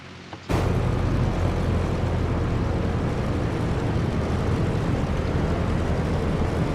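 Steady, loud drone of the twin radial engines of a DC-3 airliner taxiing in a flight simulator, starting abruptly and holding a dense, unbroken rumble with no talk over it.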